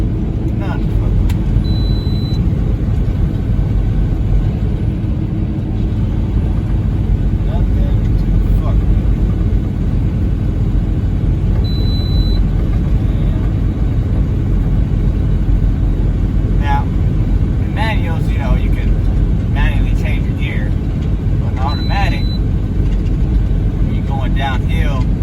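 A truck rolls downhill in top gear on a steep 6% grade of I-17 in Arizona, with a loud, steady engine and road rumble filling the cab from start to finish.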